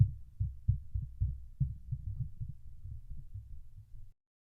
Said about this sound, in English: Going to tap the body of the microphone.